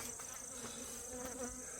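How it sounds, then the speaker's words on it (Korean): Native honeybees swarm around a farm hive, making a steady, dense buzz of many insects close by, continuous and even for the whole two seconds with no clear talk over it. "이게 5월달 벌이 그대로야. 벌들도 봐요. 보여드릴게. 군사가 많죠?"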